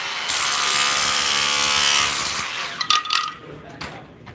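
Milwaukee tile chisel on an 18-inch extension chipping up floor tile, a loud sustained rattling hammer burst for about two seconds, then scraping and clattering chunks as it stops.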